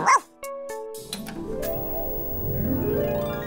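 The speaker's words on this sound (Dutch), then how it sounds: "Maar dan begint er een grote vreemde hond te blaffen." A big, unfamiliar dog barks several times in sharp, loud bursts up close, then the sound gives way to a long, sustained tonal passage with no talking.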